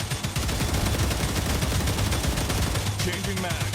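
Defensive gun turrets in StarRupture fire in dense, rapid overlapping bursts, a steady loud clatter of automatic shots with a brief voice coming through near the end.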